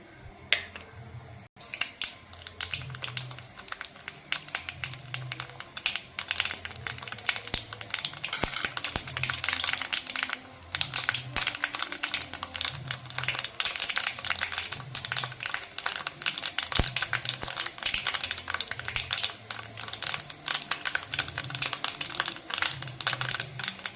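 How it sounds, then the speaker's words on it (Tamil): Mustard seeds crackle and sizzle in hot oil in a pan while tomato millet rice is prepared, a steady dense spattering of tiny pops lasting throughout at close range. "ஒரு பேன் எடுத்துகிட்டு அதில் கொஞ்சம் எண்ணெய் சேர்த்துட்டு கடுகு சேர்த்துடலாம்"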